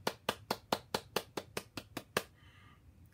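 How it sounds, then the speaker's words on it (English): Hands clap along in a quick, even rhythm, about ten sharp claps close by, the pace speeding up before stopping, followed by a faint tone. "Clap a little faster now."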